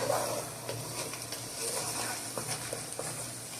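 Ginger garlic paste being stirred in a hot pan, soft scraping and faint sizzle with light irregular taps of the spoon, close and quiet.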